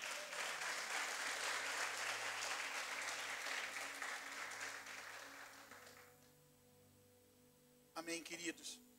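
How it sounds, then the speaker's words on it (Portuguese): A church congregation breaks into loud, sustained applause that gradually fades into quiet, followed by a brief burst of other sound near the end. "Você pode aplaudir ao Senhor?"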